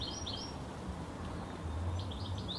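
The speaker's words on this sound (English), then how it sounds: "Can you hear the birds?" Small birds chirp in quick repeated bursts, once early and again near the end, over a steady outdoor background hiss in a garden.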